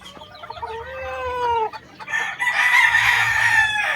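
A banded gamefowl rooster crows once in a clear, drawn-out call, followed by a burst of close, loud clucking and squawking with no talk.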